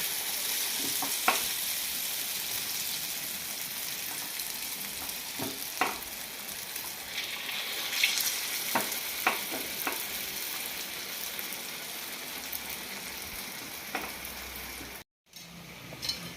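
Purnalu, Andhra sweet dumplings, frying in hot oil with a steady crackling sizzle and occasional sharp pops and ladle clinks, alone without voices and briefly cut near the end.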